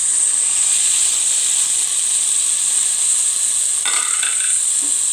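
Onion and green chili, then tomato, fry in a hot pan with a steady, bright sizzle. A brief stir scrapes through it near the end, and no one speaks.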